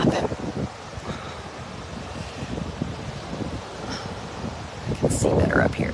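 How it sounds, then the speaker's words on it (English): Steady wind buffets the microphone with a rough, rumbling roar, gusting a little louder toward the end. "It's probably windy"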